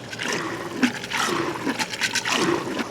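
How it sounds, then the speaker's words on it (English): DeWalt 20V cooler running while flooded inside, churning and spitting out water with a gurgling, sloshing wash like a washing machine, steady and close. "It sounds like a washer machine. So it's spitting out water."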